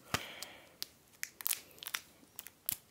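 Crinkly tearing and crunching of wrapping as a new Samsung A34 5G phone is unwrapped, a quiet, close run of short irregular crackles and rustles.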